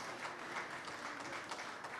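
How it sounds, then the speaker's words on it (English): An audience at a national aviation honours ceremony applauds, a soft, even wash of many hands clapping that sounds distant and faint, steady throughout with no voices. "give him a big round of applause"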